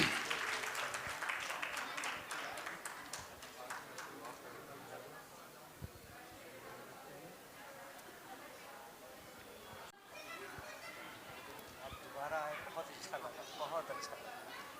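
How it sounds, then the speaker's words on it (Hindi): Loud applause from an audience at a Shrimad Devi Bhagwat Katha religious gathering welcoming a guest, broad and dense in the opening seconds, then thinning under crowd chatter and voices, with a second swell of clapping toward the end. "जोरदार तालियों से प्रेम कुमार जी का स्वागत किया जाए"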